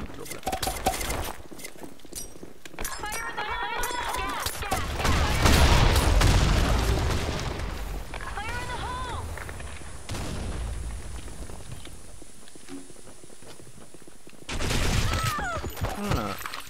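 Grenade explosions and rapid gunfire in the Blackshot video game, with loud deep booms and crackling bursts in a busy mix, while players talk over the action throughout.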